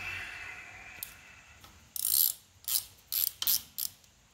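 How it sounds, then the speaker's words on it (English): A ratcheting wrench spins as 9/16 nuts come off a Ford Model A roadster water pump, giving short, close clicking bursts, about six quick ratchet runs separated by brief pauses. "I don't know if any of you guys use these ratcheted wrenches. See that spinning?"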